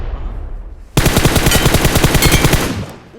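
Rapid automatic gunfire from a video game as the player shoots an enemy: a loud, close burst of evenly spaced shots lasting about two seconds, then a brief tail, with no talking.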